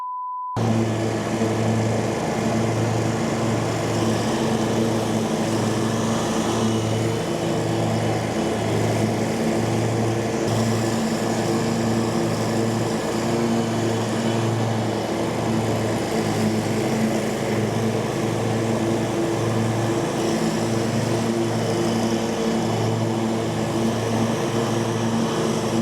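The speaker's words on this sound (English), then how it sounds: "we're gonna mulch up this pile of leaves right here" A heavy lawn mower runs steadily while mulching a pile of leaves during fall leaf season, its engine a loud, constant drone with a rhythmic pulsing throughout.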